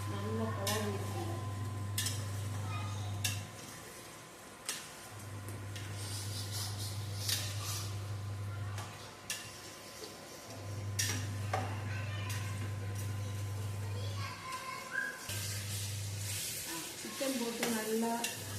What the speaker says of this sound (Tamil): சிக்கன் போட்டு நல்லா கிளறி விட்டாச்சு.